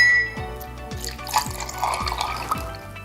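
Water poured over dry macaroni in a bowl, a close, quiet splashing and trickling fill with a few soft thuds underneath.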